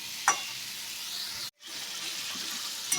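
Potatoes, bori and aubergine sauté in a pan with a soft continuous sizzle and a few light stirring clicks, quiet and close, with a brief gap midway.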